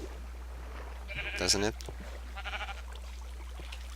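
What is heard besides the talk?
sheep bleating in Minecraft video game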